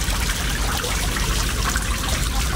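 Water drains steadily at a camper dump station, a continuous close rushing and trickling with no pauses.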